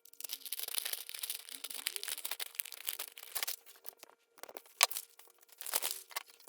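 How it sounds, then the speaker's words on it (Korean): Scissors snip notches into a paper sewing pattern, giving a quick run of dry cuts and crinkles close by, then a few sparser snips after a pause, with no talking. "여기도 안단선을 이렇게 가위밥을 넣어서 잘라줍니다."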